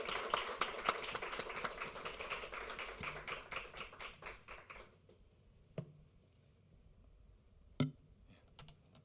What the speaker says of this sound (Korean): 우리 나오실 때 할렐루야로 영광 올려드리면서 박수로 환영하도록 하겠습니다